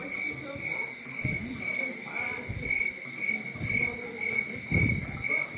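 A recording of crickets played at a natural science museum exhibit gives a steady, high pulsing chirp that repeats evenly throughout, with soft low thumps and room noise underneath.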